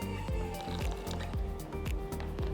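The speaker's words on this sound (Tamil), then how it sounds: "ஸோ இன்னும் கொஞ்சமாக தண்ணி ஊற்றி இதை இன்னும் கொஞ்சம் டைல்யூட் பண்ண போகிறேன்" Water is poured into thick paal paniyaram batter and mixed in, giving a steady run of wet squishing, dripping splashes close up.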